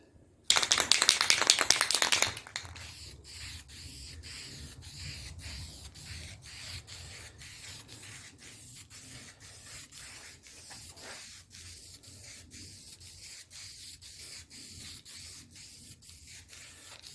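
A loud, close hiss of aerosol spray paint on carpet bursts for about two seconds, followed by quieter repeated ticking and rubbing sounds.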